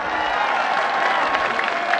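Crowd at a PTI jalsa in Mianwali applauding, a continuous dense roar of clapping and cheering, loud and close, with no break.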